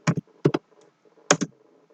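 Keys on a computer keyboard are struck in a few sharp, separate clacks close up, some in quick pairs, with quiet gaps between them.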